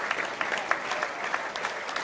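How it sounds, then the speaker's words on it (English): Bradford Bulls supporters on their feet applauding at a rugby league match against North Wales Crusaders, a steady dense patter of clapping from a crowd with no talk. "The Bull supporters all on the feet, applauding."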